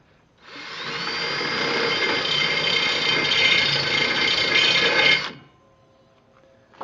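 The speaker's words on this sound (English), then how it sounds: "on the back side, it's kind of a little rough, so I just lightly deburr" A power tool whirs steadily for about five seconds while lightly deburring the rough back side of a steel part for a super duty utility trailer, close and loud, then stops into quiet.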